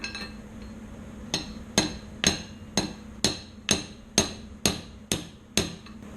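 Hammer blows drive a prop shaft bearing onto its shaft through a 32mm ring spanner on a Freelander, about ten sharp metallic strikes in a steady, evenly spaced rhythm, close and loud over a low hum.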